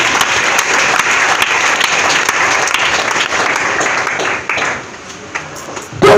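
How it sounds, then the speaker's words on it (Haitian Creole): Church congregation clapping loudly and continuously in praise, a dense wash of many hands that thins slightly near the end before a sudden loud thump. "Avec l'applaudissement pour le Seigneur."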